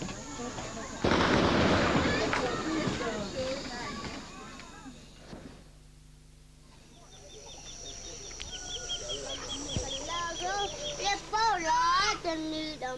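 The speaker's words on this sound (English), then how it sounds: "the army are somewhere in the darkness following in a canoe and shooting at it" Army soldiers in a canoe fire at a floating raft target on a dark lake in Peru at night, with loud bursts of gunfire and booming reports echoing over water, mixed with voices talking and calling out.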